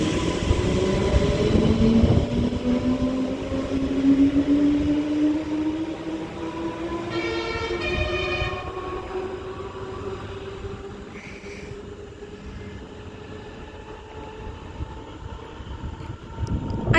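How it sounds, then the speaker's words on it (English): Transport for Wales Class 230 train pulling out of Shotton station on the Borderlands line, a rising motor whine climbing steadily in pitch as it accelerates, with a brief warning horn partway through, fairly close and clear with no talk. "getting ready to depart now is going to be the 1816 Transport for Wales service to Wrexham Central via Wrexham General"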